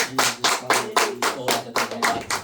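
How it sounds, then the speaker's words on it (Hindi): A small group at a Christian prayer meeting in a Mumbai home claps together in thanks: about nine loud, close, evenly spaced claps in steady unison rhythm, with no voices. "ताली बजा के धन्यवाद करेंगे परमेश्वर"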